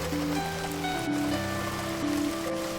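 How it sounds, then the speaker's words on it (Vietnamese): Steady rain falls during a sudden downpour in Chongqing, a constant dense hiss with low tonal hum beneath it, heard close and without speech. "Nói mưa cái là liền mưa."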